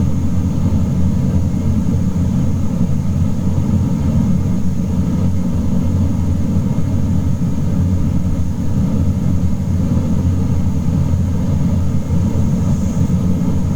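Dash 8 Q400 turboprop engines getting under way, a loud continuous low drone and rumble with a steady high whine, unbroken throughout.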